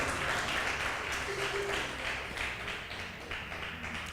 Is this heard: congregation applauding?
yes